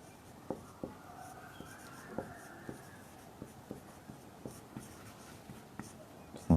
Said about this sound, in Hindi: चलिए ब्लैक से लिखते हैं